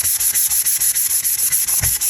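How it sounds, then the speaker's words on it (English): Rhythmic back-and-forth rubbing of 220-grit sandpaper on a resin tumbler, close and fairly loud, with about a dozen even strokes and no speech. "I'm just going to take a piece of 220 sandpaper"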